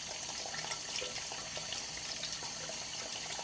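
Water runs steadily from a tap into a sink during face washing, a continuous close hiss and splatter with no speech.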